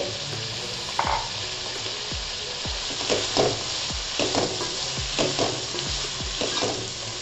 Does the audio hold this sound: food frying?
yes